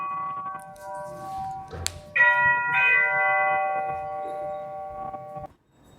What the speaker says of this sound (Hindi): बीच में थोड़ा डिस्टरबेंस आ गया, देखा तुम लोगों ने, रिंगटोन हो चुका था